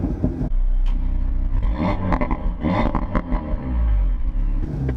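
A 2018 Audi RS3 in dynamic drive mode gives a loud, close, deep engine and exhaust rumble that surges and rises, with crackles and pops across the rev range.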